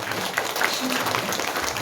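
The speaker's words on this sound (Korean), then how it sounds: "자축하는으로 박수 한번" A church congregation claps together in celebration after Easter Sunday worship, a steady, dense wash of applause lasting throughout at moderate loudness.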